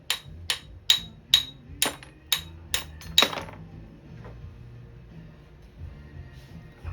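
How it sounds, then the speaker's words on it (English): Eight sharp metallic taps ring out at a steady rhythm, a small rock hammer chipping glass up close, followed by faint clinks and low rumble. "Looks like a little rock hammer."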